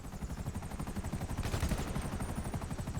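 Rapid automatic gunfire in GTA Online rattles in a steady, dense stream of closely spaced shots, loud and continuous throughout.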